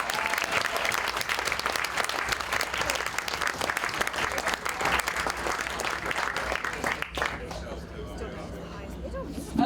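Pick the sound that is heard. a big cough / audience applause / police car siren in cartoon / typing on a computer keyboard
audience applause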